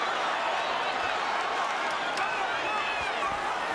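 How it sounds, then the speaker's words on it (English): A large boxing arena crowd at the Mayweather vs. Cotto fight, roaring and chanting for Cotto in a steady dense wash of voices that holds throughout. "The chant goes up for Cotto, Cotto, Cotto."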